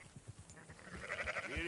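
Sheep bleat in Red Dead Redemption II, a few wavering calls rising near the end over rhythmic low hoof or movement thumps, fairly close with no speech.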